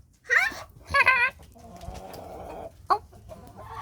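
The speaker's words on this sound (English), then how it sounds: "I don't really like to catch these big chickens, even if they're girls, because they're really big." Big hens on a farm cluck loudly in a few sharp bursts close by, with lower murmuring clucks between them.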